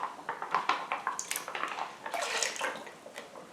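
Liquid flavouring from a Chardonnay wine kit swishes around inside a plastic bucket, giving close, sloshing splashes with small clattering knocks that rise into a fuller wash toward the end, with no voices.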